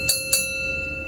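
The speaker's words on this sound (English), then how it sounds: "But they had their own bell code, signal, yeah." Two quick, clear strikes of a mine shaft signal bell rung by the banksman at the Astley Green colliery, each ring brief and metallic with a short ringing tail over a faint steady hum.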